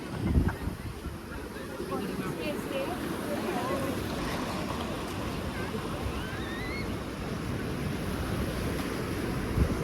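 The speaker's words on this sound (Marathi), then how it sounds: "हे बघा समुद्र खूपच वंड वाटतो ना" Steady rushing surf of ocean waves fills the scene at Gokarna beach, with wind buffeting the microphone and faint voices in the background.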